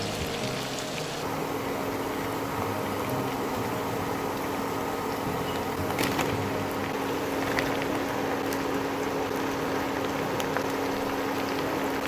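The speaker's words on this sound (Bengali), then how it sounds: "হালকা করে ভেজে নিচ্ছি।" Onions and green chillies frying lightly in a pan, giving a steady, continuous hissing sizzle at moderate level with no talk over it.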